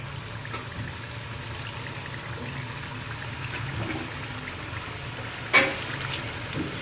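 Chorafali, a crisp Gujarati snack, frying in hot oil over high heat: a steady, even sizzle runs throughout, with a couple of sharp clinks near the end.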